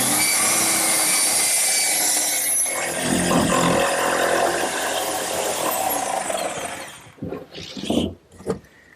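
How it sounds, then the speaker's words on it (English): A saw cuts a hatch into a wooden seat with a continuous rasping grind that roughens midway, then tails off into a few scattered scrapes and knocks. "now all that's left to do is cut the hatch in the seat"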